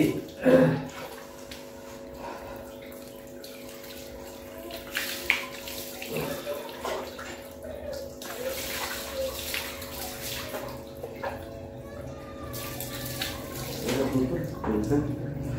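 Running water splashes and pours while a dog named Johnny is bathed in cold weather, a steady wash with faint clatters and a voice speaking over parts of it.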